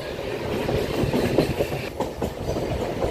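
A MEMU train rolls on after departing Motumarri junction, its steady rumble and rhythmic clickety-clack of wheels over rail joints filling the cabin continuously and loudly, with no talk.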